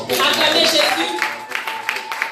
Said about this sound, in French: Des vraies acclamations.